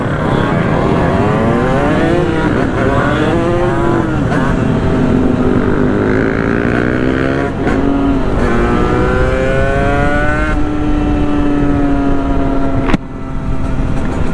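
A Sherco big-bore two-stroke, liquid-cooled, six-speed motorcycle on a street ride, its engine loud and close as it revs and climbs through the gears in rising, sweeping pitches, with a brief sharp pop near the end and no talk over it.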